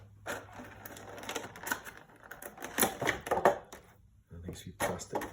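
Plastic clamshell package for a Fanhome Robocop model build being opened by hand, with a run of close, crisp crackles and clicks in uneven bursts, a short pause near the end, then more rustling.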